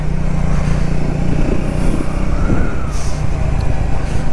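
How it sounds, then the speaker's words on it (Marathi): A motorcycle climbs a mountain ghat road between Rudraprayag and Nainital, its engine a loud, steady close drone mixed with rushing wind, unbroken for the whole stretch. "मला घाटामध्ये ना बाईक चालवायला खूप मजा येते"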